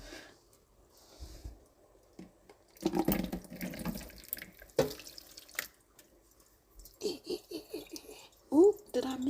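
Cooking water drains into a sink, a splashing, gurgling pour with drips that comes in bursts, while a person talks and laughs nearby.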